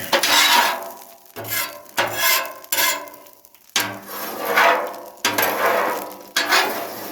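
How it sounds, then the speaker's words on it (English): Repeated scraping strokes across the cooking surface of a Blackstone 36-inch griddle, about six rough, rasping passes in an uneven rhythm, close and loud, with no talk. "let's just scrape this off real quick"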